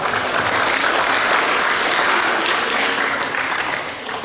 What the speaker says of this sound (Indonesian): Tepuk tangan sekali lagi untuk Tuhan.